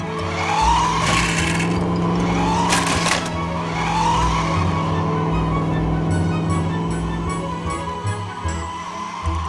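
Toy race cars skid and whine across a slippery blue platform, with repeated rising squeals and a steady motor-like hum running throughout, fairly loud and continuous.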